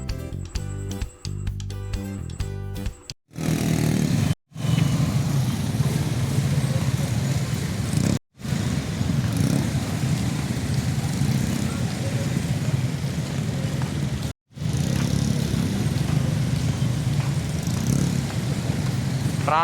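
Heavy road traffic in Dagupan City, Pangasinan, rumbles as a steady wash of car and motorcycle engines, broken by several brief cuts, with faint speech now and then.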